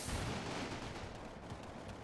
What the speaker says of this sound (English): I think the sniper's shooting the fleeing people.